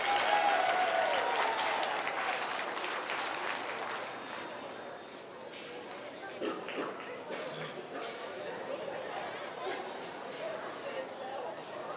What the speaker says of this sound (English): Give these kids one last huge round of applause.